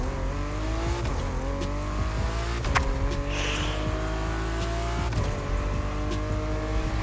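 A W Motors Fenyr Supersport engine in the video game The Crew Motorfest drones and revs, its pitch climbing and dropping through gear shifts, with occasional sharp knocks and a brief tire squeal over the continuous roar.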